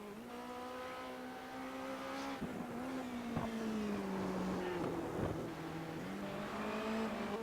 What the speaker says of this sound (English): We've been throwing a little bit of track sound for you there.